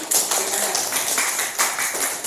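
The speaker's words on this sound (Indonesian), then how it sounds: "Ya, tepuk tangan." A classroom of students claps together in a dense, lively patter of many hands, fairly close and continuous, with a slight swell partway through.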